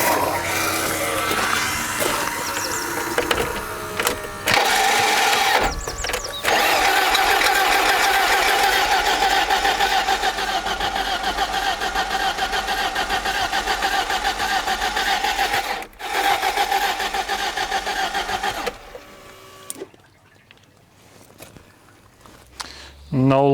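A barn-find BMW E30 engine cranks repeatedly without catching, a suspected fuel pump fault, in several close, loud, whirring bursts broken by short pauses before falling quiet near the end, with a voice briefly present.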